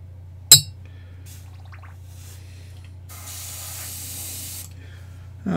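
A spray gun sprays thinned paint in one soft, steady hiss of about a second and a half, preceded by a sharp click, over a low electrical hum.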